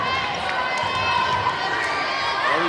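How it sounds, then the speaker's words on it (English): Crowd cheering in a gym at a girls' varsity volleyball game, a sustained wash of voices and shouts with sharp squeaks and thumps, with a commentator talking over it. "The Wildcats cheer is interrupted by Wakefield's score"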